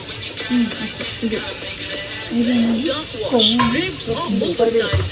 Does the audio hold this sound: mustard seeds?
yes